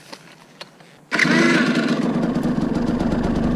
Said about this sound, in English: something's wrong with that bike.